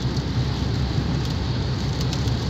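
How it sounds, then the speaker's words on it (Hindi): Light rain falling in Makkah, a steady, close hiss of drops on surfaces with a low rumble underneath, unbroken and fairly loud, with no voices. "ये देखें माशाल्लाह खूबसूरत बादल और हल्की हल्की बारिश हो रही है"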